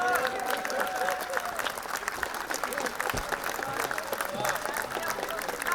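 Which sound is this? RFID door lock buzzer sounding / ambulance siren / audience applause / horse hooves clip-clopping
audience applause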